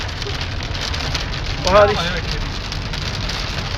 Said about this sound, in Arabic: مطرنا بفضل الله